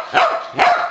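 Two loud, close barks from a dog in a home kitchen, spaced about half a second apart, with no talking.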